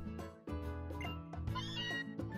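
A cat meows in the Pokémon Moon video game: a clear, drawn-out meow with a rising and falling pitch, loud and close over soft in-game background music, with no talking.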